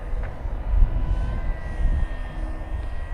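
An FMS Corsair 1700mm RC airplane drones overhead at about one-third throttle with full flaps, a steady whining electric motor hum that swells and fades gently as it passes.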